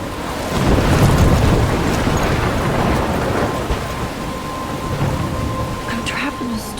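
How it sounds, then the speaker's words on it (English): A thunderstorm rages in the video game Life is Strange: loud rolling thunder rumbles over heavy, continuous rain and wind, swelling early and then holding as a dense roar. "I'm trapped in a storm?"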